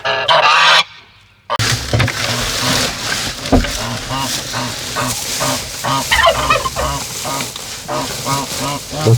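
Geese honk repeatedly on a farm near their nesting spot, loud and close, with a busy chorus of overlapping calls and some voices mixed in.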